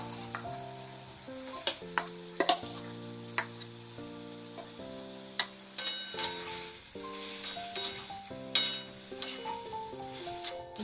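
Potato, pointed gourd and soyabean chunks stir-fried in hot spiced oil, with a steady sizzle beneath repeated sharp clinks and scrapes of a spatula against the pan, and no talking.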